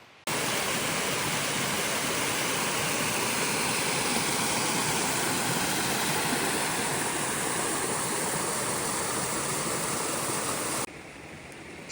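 Horton Creek in Arizona rushes past a campsite in a steady, loud, close wash of flowing water that holds unbroken for about eleven seconds, then softens slightly near the end.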